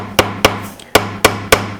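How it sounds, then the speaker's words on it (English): A hammer strikes a nail into wood in a woodshop, five sharp, loud, evenly spaced knocks with short decays and no talking. "You can see the hammer is hitting the nail straight."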